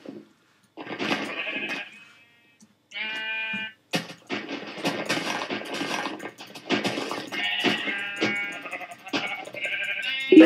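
Sheep in a video game bleat over and over, close and fairly loud, with short nasal cries arriving in irregular bursts and brief pauses between them.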